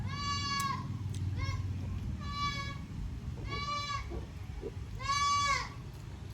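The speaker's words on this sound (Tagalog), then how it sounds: "Yung kambing yun" A goat bleats in repeated wavering cries over steady background noise, about five calls spaced across the span, the last one loudest, with some low murmuring beneath.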